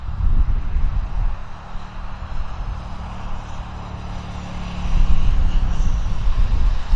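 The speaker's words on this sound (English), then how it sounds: "This Q400 is inbound from Victoria." A WestJet Q400 turboprop airliner landing at Vancouver airport, its engine roar steady and fairly loud at a distance, swelling toward the end amid rumbling background noise; no voices.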